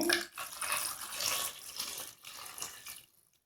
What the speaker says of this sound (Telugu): మరి ఇప్పుడు తగినన్ని నీళ్ళు అయితే వేసేసుకొని పొయ్యి మీద పెట్టుకుందామండి